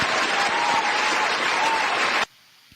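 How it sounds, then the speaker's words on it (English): Canned applause plays from an applause button, a dense, loud burst of crowd clapping and cheering lasting about two seconds before cutting off abruptly into near silence. "anytime I get a chance to play our applause button, I use it"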